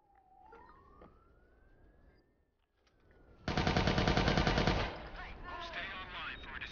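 Gunfire in the video game Watch Dogs 2 bursts out as a loud, rapid automatic volley after a quieter stretch with a rising siren, then continues more faintly.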